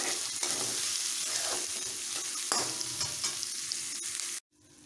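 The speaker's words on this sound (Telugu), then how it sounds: "ఆనియన్స్ బాగా ఫ్రై చేసుకో" Onions frying hard in a pan for a chicken curry, a steady loud sizzle with faint stirring scrapes throughout, ending abruptly near the close, with no voices.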